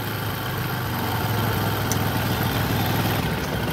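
Bajaj Discover 100cc motorcycle engine idling slowly after a mileage adjustment, a steady low mechanical putter with even pulses, close and moderately loud, no voices.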